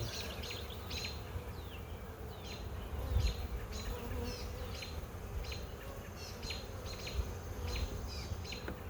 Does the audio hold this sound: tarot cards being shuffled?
no